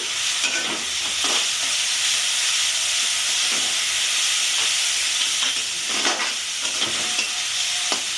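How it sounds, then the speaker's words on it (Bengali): Green chilli paste fries in a pan for a Bengali-style crab curry, a steady close sizzle and hiss with occasional scraping stirs and no voices. "লঙ্কা পেস্টও দিয়ে দেবো"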